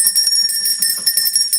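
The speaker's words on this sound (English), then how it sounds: "Wait, bells." Small bells jingle and tinkle in quick, bright, continuous shakes, loud and close, with no voices over them.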